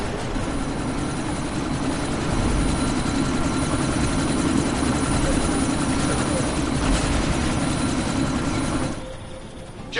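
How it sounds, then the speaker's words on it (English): A helicopter readying for takeoff in the video game Deus Ex: Mankind Divided gives off a loud, continuous rotor and engine roar that holds steady before dropping away near the end. "You've got to stop that chopper."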